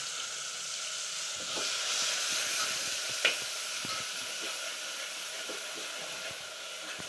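Garlic, chutney and green chillies sizzle in hot oil in a pan for buttermilk kadhi, a steady close crackling hiss with small pops and one sharp spatter, no voices over it.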